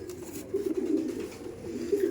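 Aggressive Kalodom pigeons in a breeding loft in South 24 Parganas coo in low, throaty, continuous rolling notes, close by and moderately loud.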